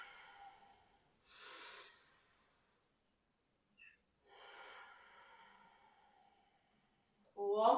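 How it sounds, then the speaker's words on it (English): A person exhales audibly during a gentle yoga flow, soft breaths with pauses between them, quiet and close, followed by a louder vocal sound at the end. "And as you breathe out."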